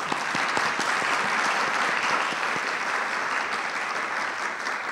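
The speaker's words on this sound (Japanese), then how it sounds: "アドバイザーの先生方に拍手で御礼申し上げたいと思います" An audience at a panel discussion applauds the advisors, producing a thick, even roar of many hands clapping that holds steady and fades slightly toward the end.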